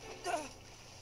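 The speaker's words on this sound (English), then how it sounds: "And he got splashed." A single short splash of something dropping into a pool in the Detective Pikachu video game, a quick bright burst that fades within a fraction of a second over low background game sound.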